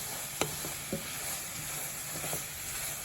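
Tofu scramble moved around a dry pan with no oil, soft continuous sizzle under a few sharp spatula scrapes and taps against the pan, fairly quiet and close.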